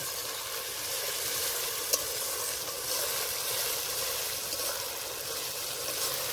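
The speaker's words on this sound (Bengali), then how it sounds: "মশলাটা ভালো করে কষে নেব" Spice masala frying and being stirred in a pan after a splash of water, a steady close sizzle with soft scraping of the spoon and one sharp tap, no talking.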